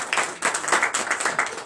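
A church congregation at a morning prayer service claps together in acclamation, a dense, lively burst of hand claps with slight rhythmic surges, close and fairly loud throughout.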